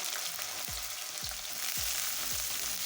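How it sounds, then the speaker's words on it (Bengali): Chopped onion and vegetables for chowmein frying in oil, a steady close sizzle with several evenly spaced scraping strokes of a spatula across the pan, no talking. "তো আমি প্রথমে সবজিগুলো ভেজে নিচ্ছি।"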